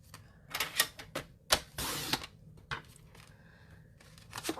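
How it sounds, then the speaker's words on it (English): A paper trimmer cuts white paper for a card mat in short, close slicing and clacking strokes, with one longer scraping cut in the middle and quieter handling clicks around it. No voices are heard. "So I'm going to trim off 5 inches here."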